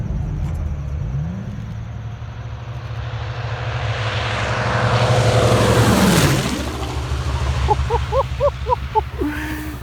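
A custom Runge Veleno car engine gives a deep, rumbling drone that builds to a loud roar and then settles into a throaty idle, sounding much like an old propeller fighter plane.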